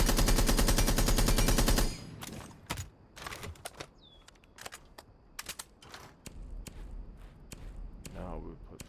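Blackbeard's rifle fitted with a compensator and vertical grip fires a dense, loud automatic burst in Rainbow Six Siege, followed by scattered single shots and clatter at lower level.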